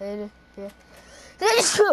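A person playing a shooter game with a friend lets out a single sharp, loud sneeze right after a stretch of casual talk.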